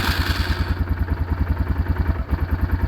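Yamaha Wolverine 450 ATV engine running on a test ride, a steady, loud, close putter with evenly spaced pulses throughout, no voices over it.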